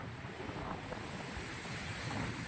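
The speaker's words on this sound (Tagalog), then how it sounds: "Makulimlim, mahangin, malamig." Wind gusts buffet the microphone on an overcast, chilly coastline at Malico, a steady broadband rush with a faint surf-like wash and no voices.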